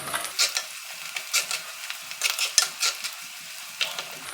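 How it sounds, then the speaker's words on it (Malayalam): Crushed ginger, garlic and slit green chillies are sautéed in a pan, with a soft steady sizzle under intermittent scraping stirs of a spoon. The sound is close, and nobody speaks. "ചതച്ച് വെച്ചേക്കുന്ന ഇഞ്ചിയും വെളുത്തുള്ളിയും പിന്നെ അരി ചെറുതായിട്ട് കീറിയ പച്ചമുളകും കൂടെ ആഡ് ചെയ്ത് ഇതൊന്ന് വഴന്ന് വരട്ടെ"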